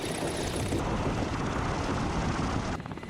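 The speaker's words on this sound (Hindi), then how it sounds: "वॉर जोन के ऊपर से उड़ता यह हेलीकॉप्टर" A military helicopter over a war zone gives a steady, loud rotor-and-engine roar mixed with wind buffeting, then cuts off abruptly near the end.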